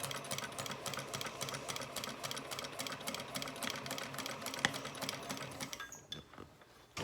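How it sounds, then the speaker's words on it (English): A sewing machine stitches piping on a vinyl handbag near the strap connectors, running in a fast, quiet, rhythmic patter, then stops near the end. "Hard to sew next to strap connectors."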